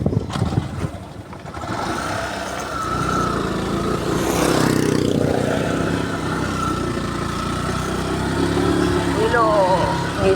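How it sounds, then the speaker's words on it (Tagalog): A motorcycle engine runs steadily through the whole stretch, a continuous broadband rumble during a morning ride up toward hills and waterfalls, with people talking over it. "Dito nakamotor si Carowina eh"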